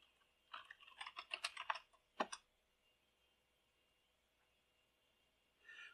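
Quick bursts of keystrokes on a computer keyboard at a MATLAB command prompt, a close, quiet run of clicks followed by a couple of isolated taps, then silence and a faint rustle at the end.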